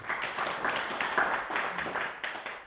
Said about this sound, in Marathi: त्यांचंही सर्वांनी टाळ्या वाजवून आपण स्वागत करू